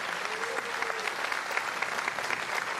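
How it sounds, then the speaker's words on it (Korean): Crowds of supporters gathered outdoors at a South Korean presidential inauguration applaud and cheer, a dense continuous wash of clapping with a few faint whistles, steady and fairly loud throughout. "대통령께 큰 박수 환호를 보내주시기 하고 바랍니다."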